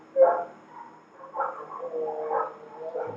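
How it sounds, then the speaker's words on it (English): Dogs bark outside in a scattered series of muffled, distant yips and barks, heard alone without talk. "Dogs are going crazy outside."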